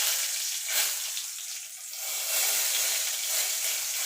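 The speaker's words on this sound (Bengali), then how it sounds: "তার জন্য ফোড়নে দিয়ে দেবো একটা তেজপাতা আর গোটা গরম মশলা" Bay leaf and whole garam masala tempering in hot oil, a steady bright hiss of sizzling that swells slightly and holds throughout, close and fairly quiet, with no voices.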